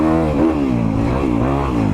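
A 2022 Honda CRF250RX dirt bike engine revs on the throttle, a loud, close, steady buzzing drone whose pitch rises and falls through brief surges.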